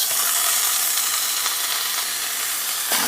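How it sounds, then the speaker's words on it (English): Ground beef sizzles steadily in a preheated pan, a loud, continuous hiss of frying meat with a couple of faint clicks, no voices. "preheated pan, going in with ground beef"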